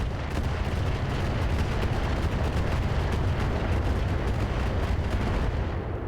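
A Galleon mech in RogueTech (BattleTech) fires a loud, dense volley of rockets, a continuous rumbling barrage of rapid launches and blasts that stays heavy for several seconds.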